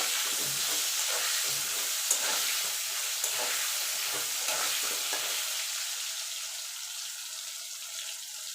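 Steady sizzling of potatoes frying in hot oil with turmeric and salt, a continuous bright hiss with occasional soft stirring clicks, close by and without voices.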